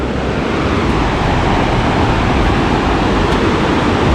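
The Parvati River near Kasol in Himachal Pradesh flows in a loud, continuous roar of rushing water, steady and close, with no one speaking.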